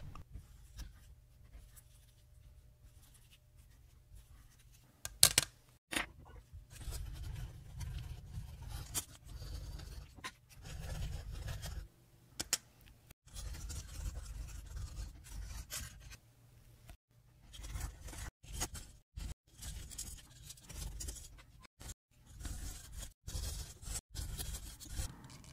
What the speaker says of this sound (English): Naphtha and a nylon brush are used to pre-clean the plates and other components.